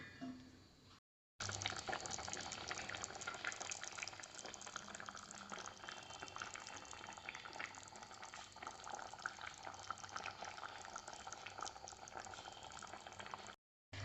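Fish curry gravy simmering in a covered pot on low flame: soft continuous bubbling and burbling, close and quiet, steady throughout apart from brief cuts near the start and end.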